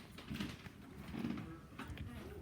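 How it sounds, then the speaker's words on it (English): A large flock of pigeons gathers outdoors, soft throaty cooing rising and falling over a busy, rumbling background, moderately faint and continuous. "here come more birds"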